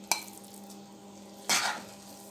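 Semolina halwa is scooped out of a cooking pan in two separate bursts of spoon-on-metal scraping and clatter, a brief one at the start and a longer one near the end, close by and with no speech.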